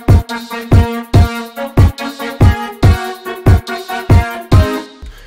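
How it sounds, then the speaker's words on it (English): A recreated hip-hop beat for a song plays alone, with punchy brass stabs on a kick, percussion and hi-hat, hitting in an even, repeating rhythm about twice a second. "We're gonna be adding in the brass, the kick,"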